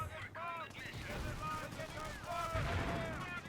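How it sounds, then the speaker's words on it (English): Booming mortar and gunfire in the World War II strategy game Company of Heroes, Market Garden campaign, rumbling under a voice that talks across the battle noise. "they've got mortar fire coming in on our positions out here"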